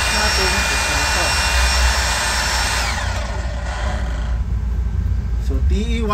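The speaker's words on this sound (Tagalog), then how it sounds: "So TE1000 jackhammer." A Hilti TE1000 jackhammer roars loudly and steadily up close, its high whine gradually falling away as the tool winds down partway through.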